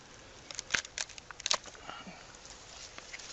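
Date palm flower stalk strands are snipped at the center of the cluster, giving a few quick, crisp cuts close by in a cluster early on, then softer rustling.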